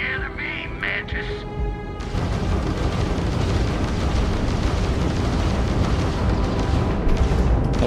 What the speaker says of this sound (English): Oh, it's firing at me.